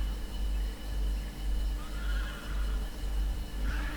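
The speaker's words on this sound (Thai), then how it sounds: "ไปจับม้ากลับมา" A horse whinnies in Red Dead Redemption 2, the neigh rising midway and again near the end over a steady low rumble of game ambience and faint hoofbeats.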